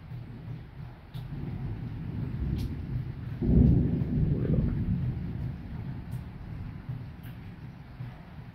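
Thunder rolls in a low, sustained rumble from a violent summer thunderstorm with lightning, swelling midway and fading under steady wind and faint rain, distant rather than close.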